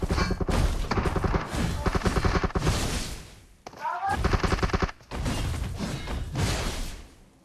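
Automatic gunfire in the mobile battle-royale game PUBG Mobile rattles in loud, dense bursts, broken by a brief lull and a whoosh before the firing resumes.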